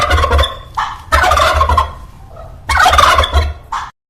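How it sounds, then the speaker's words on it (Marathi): A farm turkey gobbles loudly and close, three rapid rattling bursts separated by short pauses, with no other voices. "हा आहे टर्की. इंग्रजीमध्ये याला टर्की म्हणतात."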